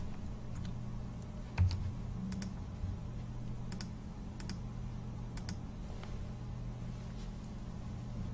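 Keys tapped on a computer keyboard while an ID and password are entered, scattered light clicks in short bursts over a steady low hum, fairly close, with no talking.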